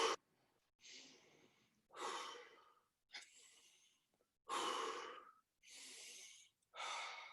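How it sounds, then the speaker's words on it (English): Rapid breathing exercise: quick, forceful breaths drawn in through the nose and pushed out through the mouth, about seven loud, close breaths in a steady rhythm with short pauses between, no talking. "breathing extremely quick in through your nose and out through your mouth"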